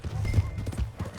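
Horse hooves from the Red Dead Redemption 2 video game, a quick run of close, dull clip-clop thuds in an uneven galloping rhythm with a brief voice mixed in.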